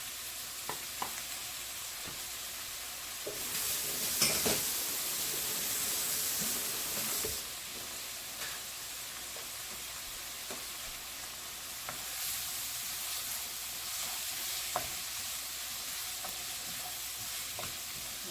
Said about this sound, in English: I'm going to add my mushrooms